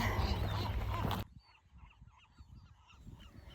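Seabirds at a nesting colony on Anacapa Island, a loud close squawk burst for the first second, then many overlapping honking calls carrying on more faintly across the colony.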